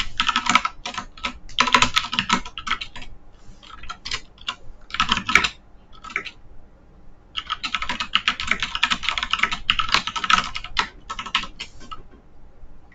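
Rapid keystrokes on a computer keyboard while writing GDScript code in the Godot Engine, coming in close, busy bursts separated by short pauses, with no voice over them.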